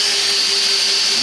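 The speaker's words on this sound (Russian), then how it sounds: "И шуруповерт." A cordless screwdriver drill runs steadily off an EcoFlow portable power station, giving a loud, continuous high motor whine with a low hum beneath, unbroken for the whole brief moment.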